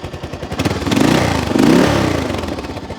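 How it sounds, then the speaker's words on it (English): A 1977 Yamaha XT500 Enduro motorcycle engine runs steadily nearby, a loud rhythmic putter that swells slightly as if given a light rev, then settles back. "Engine sounds nice and smooth."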